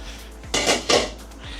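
A metal frying pan clanks twice as it is picked up and set down, two short bright knocks close by in a quiet kitchen.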